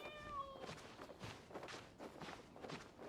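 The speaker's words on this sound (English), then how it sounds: "I hear the cat." A cat in the video game Genshin Impact gives a short, faint meow at the start, followed by soft, quiet footsteps.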